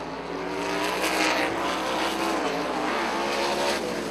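Sprint race cars of the Must See Xtreme Sprints series at Rockford Speedway, a continuous loud, high-revving engine roar with shifting pitch as cars pass close by.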